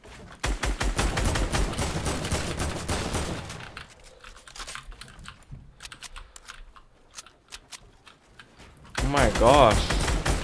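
Rapid video-game gunshots crack in a quick burst at the start, then sparse distant shots, and a louder volley returns at the end, with a player's voice talking over parts of it.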